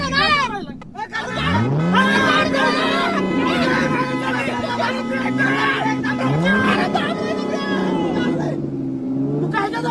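A car engine revs hard in low gear as a new driver struggles up a steep uphill road, the whine rising and falling in pitch repeatedly, loud and close, with people talking over it.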